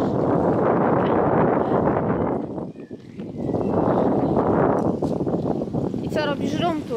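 Outdoor wind on a hot day roars in heavy, steady gusts across the microphone, easing briefly midway before buffeting again, with faint higher sounds near the end.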